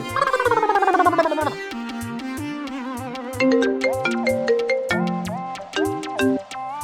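A mobile phone ringtone for an incoming call, a bright chiming electronic melody of quick stepped notes that plays loudly and alone, with no voices.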